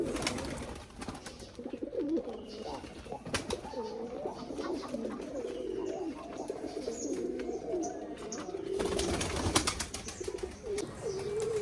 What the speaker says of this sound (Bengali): খাবার খাওয়ার সাথে সাথেই কবুতরগুলা বাচ্চারে খাবার খাওয়ানোর জন্য চলে আসছে।